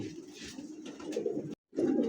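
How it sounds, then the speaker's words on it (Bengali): A blue magpie border pigeon gives low, close cooing phrases, broken by a brief silence before the cooing resumes. "ম্যাকপাই ব্লু ম্যাকপাই বর্ডার কবুতর"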